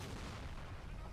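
Distant rumbling explosion as a carrier is destroyed in the WWII tactical game Combat Mission: Battle for Normandy, a low, sustained boom filling the short moment at moderate loudness with no talk over it.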